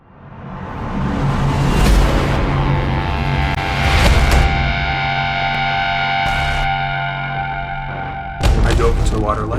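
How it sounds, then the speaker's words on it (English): Dark, dramatic music swells with heavy distorted, echoing tones and sustained low drones, loud and ominous, ending on a sudden sharp hit. "Cue the serious music."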